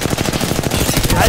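Rapid automatic gunfire in the Apex Legends video game, a loud, dense burst of quick repeated shots filling the whole short moment.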